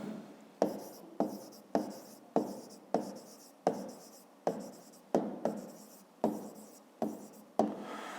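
Handwriting an answer to a math exercise, about a dozen distinct strokes of a pen on paper, each a sharp tap followed by a short scratchy drag, close and evenly paced with no talking.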